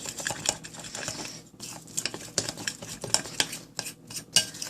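Gram flour batter for pumpkin pakodas stirred in a bowl as water is added, giving steady close wet clinks and scrapes of a spoon against the dish, with no voices.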